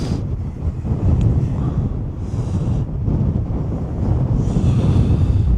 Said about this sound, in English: I'm in like direct wind.